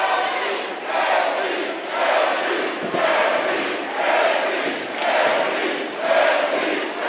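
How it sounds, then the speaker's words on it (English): A capacity crowd at a wrestling match in the Scottish Rite Temple roars and cheers in rhythmic surges about once a second, loud and sustained like chanting, with no clear speech. "As you can hear the capacity crowd here in the Scottish Rite Temple obviously firmly behind the home team and Lakota Red Cloud."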